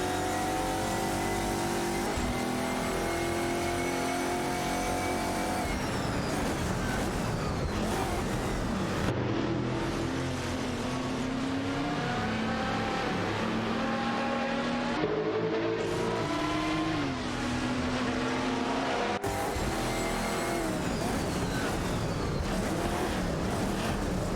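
Race cars, Chevrolet Corvette C6.R and Lamborghini Murcielago, roar through a racing video game, engines whining continuously with rising and falling pitch through gear changes, several cars overlapping loudly without any talk.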